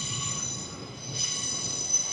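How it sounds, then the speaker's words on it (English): A train passing on an overhead railway track in Leeds, a continuous loud rumble with a high squealing wheel tone running throughout. "The train track's up there and it's very loud."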